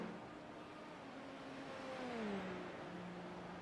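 Race cars circling the track at the Petit Le Mans vintage event, a continuous engine drone with a gear change and falling pitch midway as a car passes, moderately distant and steady, with no talk over it.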